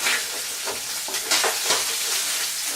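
Paella ingredients sizzle in a hot pan while being stirred, with steady frying hiss broken by scraping, shuffling strokes of the utensil, close and clear with no talking.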